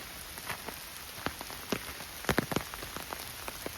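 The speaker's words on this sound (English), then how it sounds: "So if you can hear the rain, it's on the umbrella." Rain patters on an umbrella overhead, irregular drops tapping close by, some louder hits clustered together, no talking.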